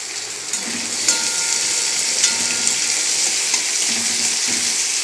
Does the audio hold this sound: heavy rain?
no